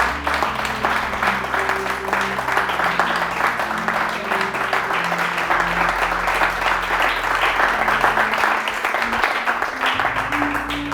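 Worshippers in a church clap loudly and continuously in praise of Jesus, a thick, even wall of applause with a low organ or keyboard drone sustained underneath.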